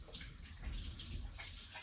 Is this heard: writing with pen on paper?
no